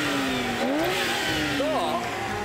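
A naturally aspirated Ferrari engine revs up in a few rising and falling sweeps over steady mechanical hum, fairly close and loud, with faint voices in the background.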